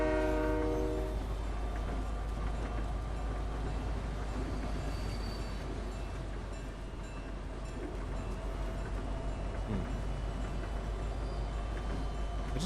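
A train rumbles steadily in the Fortnite video game, with a low continuous rolling drone and a brief horn-like tonal blast at the start, moderately loud and sustained.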